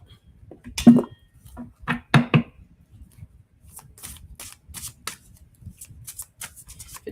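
Goddess oracle cards get shuffled by hand in a quiet room, crisp riffling bursts and soft flicks coming in uneven clusters, close and alone.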